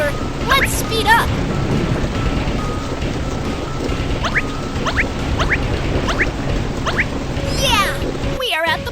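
A cartoon thunderstorm at sea churns with continuous rushing wind and rain, while short squeaky cartoon voice sounds chirp over it. The noise cuts off abruptly at the end.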